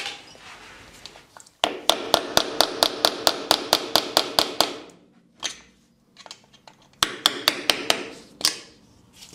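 Rapid, evenly spaced metal hammer blows ringing out in two bursts of about a dozen strikes each, with a few single knocks between, loud and close, knocking out a staked wheel bearing on a Land Rover Defender.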